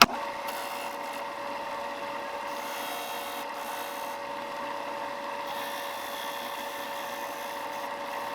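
A small basswood fishing lure is sanded by hand, giving a steady, continuous rasping scrape close up, even in level and unbroken throughout.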